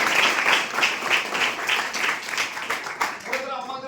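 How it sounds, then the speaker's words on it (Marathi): A crowd claps steadily in a dense burst of applause at a lecture on facing exams, loud and continuous, fading out at the end. "एकदा जोरदार टाळ्या झाल्या पाहिजे"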